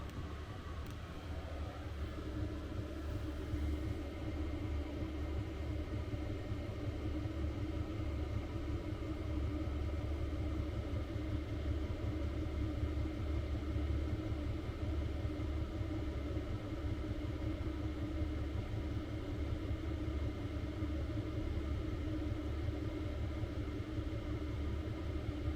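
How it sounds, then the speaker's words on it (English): Diesel heater running aboard a boat at night, a steady low rumbling drone with constant airy hiss, close and unchanging throughout, with no voices. "Sorry about the noise of the heater"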